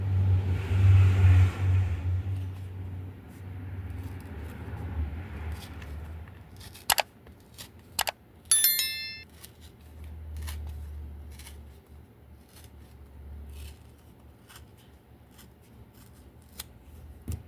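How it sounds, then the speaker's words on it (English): Stacked paper cards are ripped apart by hand for a flat torn-edge effect, giving a few sharp tearing crackles in a short burst after an earlier stretch of low rumble, with no talking. "I'm going to try to rip these together"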